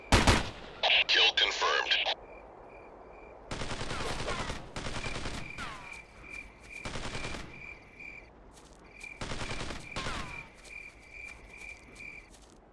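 Bursts of gunfire from the video game Ghost Recon, several separate volleys of rapid shots spread across the stretch, with a player's voice speaking briefly over them and a faint insect-like chirp beneath.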